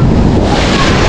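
Sea waves churned up by Typhoon Uwang surge and roar with heavy wind buffeting the microphone, a loud, continuous, close wash of surf with no voices.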